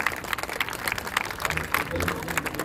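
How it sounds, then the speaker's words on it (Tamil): Audience applause at a Ramayana dance performance during the Mylapore Festival: a dense, steady wash of hand clapping that continues through the whole stretch, with voices mixed in underneath. "அதனால நீங்க கற்ற கைத்தட்டல் திருப்பூர் வரைக்கும் கேட்கணும்."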